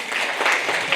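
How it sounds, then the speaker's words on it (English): An audience at a Friendsgiving brunch and sip-and-paint gathering gives a speaker a round of applause, a close, full burst of many hands clapping that holds steady for the whole moment. "Y'all give her a round of applause."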